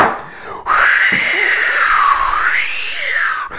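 A voice imitates cold cartoon wind on a snowy farm with a loud, wavering howl that swoops up and down for about three seconds.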